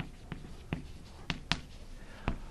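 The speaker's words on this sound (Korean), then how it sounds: "이렇게 한번 써볼게요." A teacher writing on a board during a Korean-language grammar lesson: a handful of sharp, separate taps and short strokes, close and fairly quiet, with no talking.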